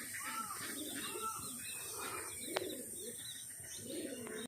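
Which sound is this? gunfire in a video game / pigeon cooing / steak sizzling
pigeon cooing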